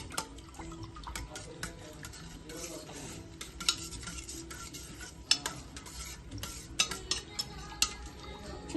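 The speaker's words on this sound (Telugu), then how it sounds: "తర్వాత ఇప్పుడు మిక్స్ చేసుకోవాలి." A spoon clinks and scrapes in a bowl while food is mixed for an Ugadi dish, with irregular taps and light wet stirring, close and alone.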